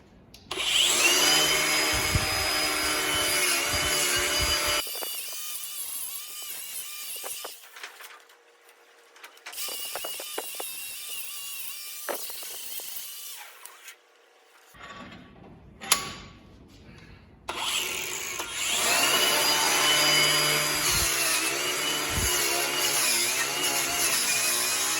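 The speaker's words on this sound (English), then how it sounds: "We're just gonna kind of grind this out, put a bevel on the edge on this" Angle grinder beveling the edge of a scrap steel plate, loud steady grinding runs separated by quieter pauses with clinks and handling, close by.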